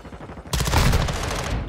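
Rapid automatic assault rifle fire in a shooter video game erupts half a second in and rattles on loudly and continuously to the end, with no talk over it.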